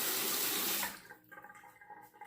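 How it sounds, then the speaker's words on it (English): Tap water runs loudly for under a second while a razor is wetted for a shave, then cuts off, leaving faint drips and small handling sounds. "I'll wet the razor"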